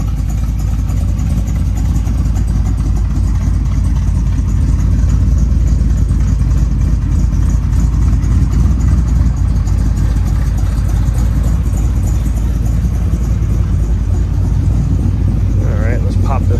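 A 1968 Camaro engine runs through an old school chambered exhaust, a loud, steady low rumble close by that holds throughout, with a faint higher sound near the end.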